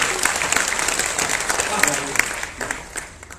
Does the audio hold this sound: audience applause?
yes